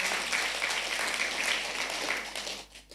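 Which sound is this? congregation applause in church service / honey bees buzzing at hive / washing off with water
congregation applause in church service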